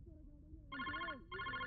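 A telephone rings twice in bright electronic bursts over someone speaking quietly underneath.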